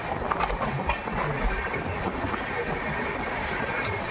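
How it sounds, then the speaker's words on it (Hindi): A Jaipur Jodhpur High Court SF Express train runs at full speed, heard from inside a rear coach as a loud steady rumble with faint wheel clatter and occasional light squeals. "वो भी ट्रेन फुल स्पीड में मेड़ता रोड पहुंच रही है"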